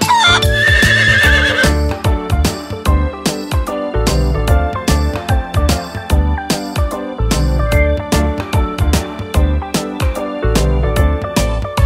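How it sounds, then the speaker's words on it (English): A horse in a stable neighs within a cartoon children's song, whinnies set against a bouncy, loud musical accompaniment with steady rhythmic beats. "The horse in the stable goes neigh, neigh, neigh."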